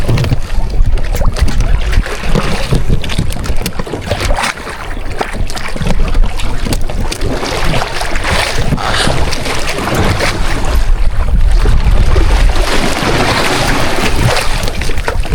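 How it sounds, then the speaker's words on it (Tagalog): Steady wind and rough waves buffet a small wooden fishing boat at sea through the night while out squid fishing, a loud continuous roar with constant buffeting and splashing and no talk. "Talagang magdamag po yung alon niya tsaka hangin."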